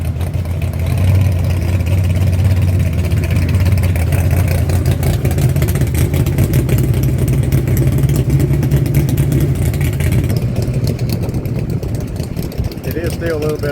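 A car engine running slightly lean holds a steady, loud idle with a low droning hum, the tone shifting slightly partway through before settling again.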